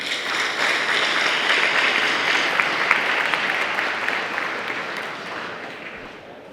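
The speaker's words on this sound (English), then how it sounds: "Let's give him another round of applause for riding off that ramp so seamlessly." Sustained audience applause at a micromobility electric-vehicle expo, a dense, even wash of many hands clapping from a large crowd that holds steady for several seconds and then slowly tapers off.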